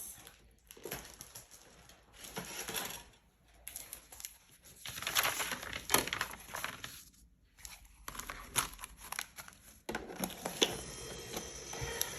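A hand-cranked die cutting machine rolls a taped handmade card through its plates, giving bursts of grinding, crinkly pressure noise separated by brief pauses, fairly quiet and close with no talking.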